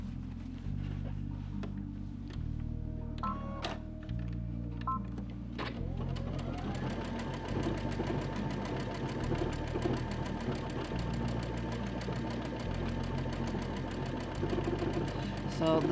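A computerized Brother or Baby Lock sewing machine stitches out a decorative snowflake, its steady rapid needle clatter running throughout with rhythmic shifts in pitch as the pattern moves sideways and diagonally, close and continuous.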